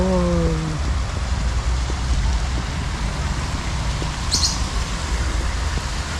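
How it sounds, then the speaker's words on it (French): A small river flowing through a Japanese garden in Hobart, Australia: a steady, dense rush of water fills the scene without pause, with a few brief bird-like chirps near the start. "il y a une petite rivière"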